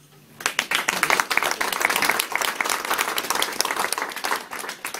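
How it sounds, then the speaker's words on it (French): An audience at a Cannes university New Year greetings event applauds its volunteers: dense, steady clapping that starts after a brief quiet moment and carries on strongly for about five seconds. "Et je pense que vous pouvez les applaudir."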